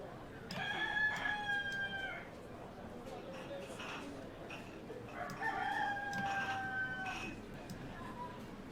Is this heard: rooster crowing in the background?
yes